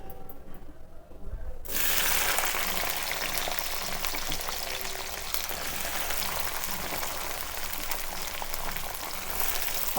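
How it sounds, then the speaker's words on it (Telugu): Whole tempering spices drop into hot oil and burst into a loud, steady crackling sizzle that starts abruptly after a quiet moment and holds for the rest of the stretch. "నాకు డైరెక్ట్గా తాలింపు వేసేస్తున్నా"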